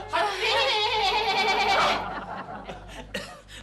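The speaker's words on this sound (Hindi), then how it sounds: "आपने घर में बकरा पाल रखा है क्या?" A goat lets out one loud, drawn-out, quavering bleat lasting about two seconds, followed by quieter scattered sounds.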